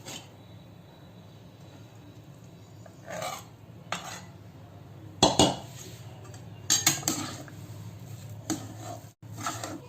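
A spoon scrapes and clinks against a pan as sugar syrup is gradually stirred into roasted gram flour for Gujarati mohanthal, with soft rubbing strokes and a few sharper metallic scrapes, close and fairly quiet.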